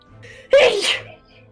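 A single sharp, close sneeze bursts out with a short breathy intake just before it, loud against an otherwise quiet room.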